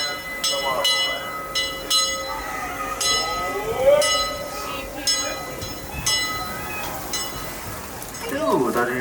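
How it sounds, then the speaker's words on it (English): A Disneyland Railroad steam train runs through the park in the rain, its bell ringing in repeated clangs over rolling wheels and hiss while a station announcer speaks over a loudspeaker. "the Holiday to Express train, now departing from Main Street Central Station"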